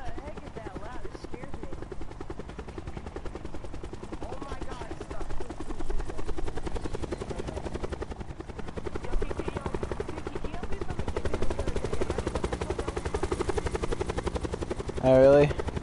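A helicopter flies in a video game, a continuous rapid rotor chop and engine drone running steadily throughout, moderately loud with people talking over it.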